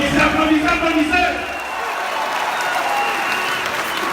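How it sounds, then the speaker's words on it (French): Applause and cheering from a crowd at a RACI conclave political rally in Côte d'Ivoire, with loud clapping and shouts at first that then thin into a lower steady crowd noise under voices. "Applaudissez, applaudissez, applaudissez."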